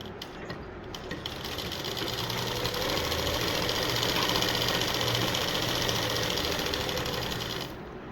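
A sewing machine runs steadily while stitching a long dress converted from a frock or saree, its fast mechanical whir sustained close by for most of the stretch before stopping near the end.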